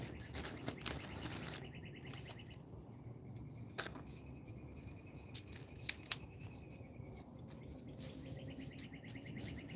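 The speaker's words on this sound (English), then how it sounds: "Birds sure are doing their thing outside." Birds chirp outdoors in bright, repeated tweets over a low steady background murmur, moderately distant, with a few sharp clicks near the end and no talk.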